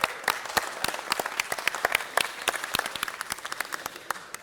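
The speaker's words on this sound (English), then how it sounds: "For that, I'd like to give them a round of applause." A small group at a city council meeting claps for the Rotary Club, sharp distinct handclaps in a brisk irregular patter that gradually thins and softens over a few seconds.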